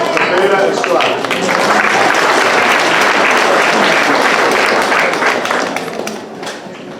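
A crowd applauds at a middle school 8th grade academic awards ceremony, loud dense clapping that holds steady for several seconds before tapering off near the end.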